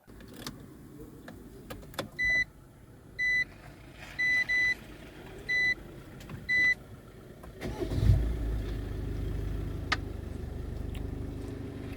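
A car engine cranks and catches after a series of short electronic beeps despite an AdBlue fault (P20E8), then settles into a low, steady idle rumble close by.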